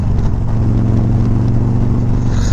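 A 2019 Harley-Davidson Road Glide Special bagger with a 128 cubic inch engine accelerates hard enough to lift its front wheel, giving a loud, steady, close engine roar that holds throughout with no talk.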